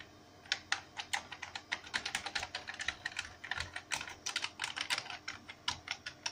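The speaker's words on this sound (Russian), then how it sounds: "Такой тест клавиатуры." Fast, irregular clicking keystrokes on a miniature IBM PC/AT 286 keyboard during a keyboard test, close and fairly quiet, with no voices.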